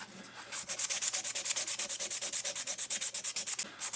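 Wood rubbed briskly by hand with 100 grit sandpaper, a fast, even run of rasping back-and-forth strokes, close and clear with no talk.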